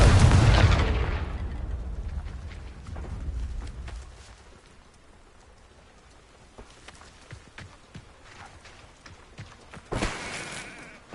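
A Confringo fire spell detonates in a Harry Potter video game: a loud booming explosion opens and fades into scattered crackling debris, then a second sharp blast hits near the end.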